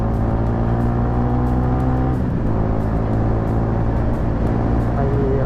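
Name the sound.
Yamaha Sniper 155 motorcycle riding at top speed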